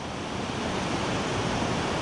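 Ocean surf breaks and washes along a beach during surf perch fishing, a dense, steady roar of waves and spray sounding close and loud with no talk.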